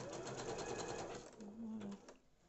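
A sewing machine stitches a zigzag over elastic thread, running with a fast steady mechanical whir and rhythmic needle clatter that slows and stops near the end, close, with someone talking over it.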